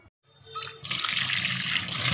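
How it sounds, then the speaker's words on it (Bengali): Tap water runs steadily over onions and tomatoes being washed in a home kitchen, starting after a short pause and then pouring on continuously and close by. "এদিকে দেখো পেঁয়াজ আর টমেটো করে ধুয়ে নিচ্ছি"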